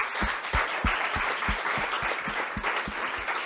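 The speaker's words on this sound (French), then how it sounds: "Ben, vous pouvez vous applaudir" Audience applauding after a classroom debate on digital pollution, a close, lively burst of clapping from a modest group, rhythmic and steady throughout with no voices on top.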